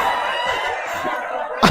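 A rooster at night, unsettled after a new hen arrived two days earlier, gives a short close crow-like call with clucking tones, ending in a brief louder burst.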